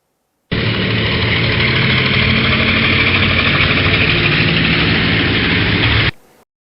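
A helicopter's engine roars in a loud, steady drone with a choppy throb underneath, starting abruptly and holding constant for about five and a half seconds before cutting off.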